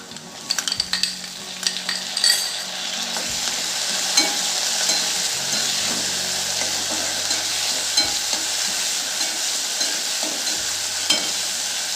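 Chopped tomato sautés in hot oil with asafoetida in a pan while preparing cabbage bhaji, giving a steady, close sizzle for the full stretch, broken by occasional spoon stirs and light clinks.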